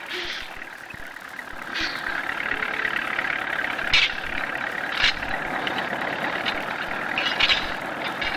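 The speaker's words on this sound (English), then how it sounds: "Skilled hands maneuver 50 tons of logs onto each of the specially built tractor trailers." Heavy logging tractor trailers specially built to carry 50 tons of timber logs, working on a logging road; a steady diesel engine drone runs throughout, with a few brief higher clanks or squeals rising over it.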